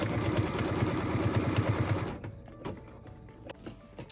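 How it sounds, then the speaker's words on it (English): A sewing machine runs fast for about two seconds, stitching a cut line across quilting fabric pieces in a rapid, even mechanical whir, then stops, leaving light clicks and fabric handling. "What we're stitching now is the cut line for piece number 4 on piece number 3"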